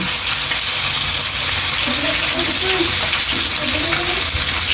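A pot bubbles and sizzles steadily at close range, with a continuous hissing, frying-like texture throughout and no talking.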